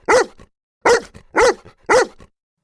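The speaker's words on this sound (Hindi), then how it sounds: "पर कुत्ता अब भी गुर्राता रहा।" A dog barks four times, loud and close, in evenly spaced sharp bursts separated by silence.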